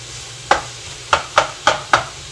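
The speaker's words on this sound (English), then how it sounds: "I do have some olive oil in the pan, just like a little drizzle of it, okay? And let it" Vegetables sautéing in a drizzle of olive oil in a pan, heard as five distinct sharp clacks of stirring, spaced irregularly over a quiet, low background.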